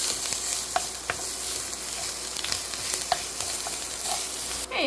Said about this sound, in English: So we're going to cook this, stirring this for just 1 minute.